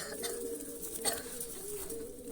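Pigeons in a home loft, several breeds kept together, give low soft coos that blend into a continuous murmur under steady background noise, with a slightly louder swell near the middle.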